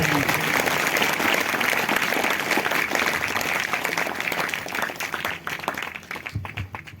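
A church congregation at a Wednesday worship service claps loudly and continuously, a dense sustained wash of applause that thins slightly toward the end.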